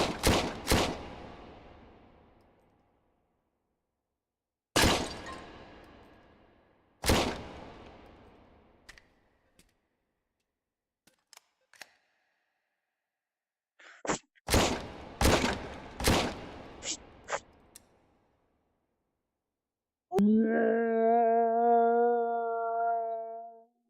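Gunfire in the VR shooting game H3VR: loud, widely spaced single shots with long ringing decays, then a cluster of quicker shots and faint clicks, ending with a sustained tonal howl-like sound.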